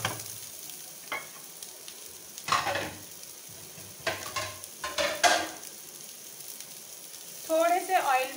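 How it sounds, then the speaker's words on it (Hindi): Gola kebabs shallow frying in a little oil, with soft sizzling and several short bursts of spatter and stirring or turning noises, fairly close and moderately loud, with no talking. "तेजी से दोनों तरफ से मैंने इसको फ्राई कर लेना है।"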